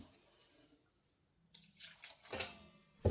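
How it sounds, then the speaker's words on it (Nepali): Water is poured into flour to make Nepali sel roti dough, a faint, short trickle and drip over a quiet kitchen background with no talking. "अब थोरै पानी राख्दै हामीले मुस्नुपर्छ।"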